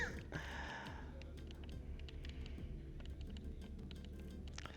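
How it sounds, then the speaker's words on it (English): Rapid button clicks on a game controller during a Tetris Effect Connected run, soft and steady, with faint keyboard-like tapping throughout. "me clicking on the controller"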